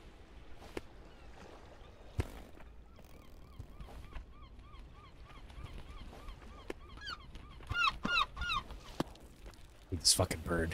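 Honking bird calls in a climbing video game, repeated short honks growing busier and louder toward the end, over a noisy game background with scattered clicks and thumps.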